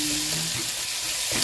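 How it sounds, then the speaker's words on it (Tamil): Onions fry in a clay pot with a close, steady hiss of sizzling and a few soft stirring scrapes. "அப்படியே இப்போ வந்து வெங்காயத்தை போட்டோம். வெங்காயம் போடையா அந்த பொரிய அந்த சுடுற அந்த ஒரு வாசனையே வரும் பார்த்தீங்களா."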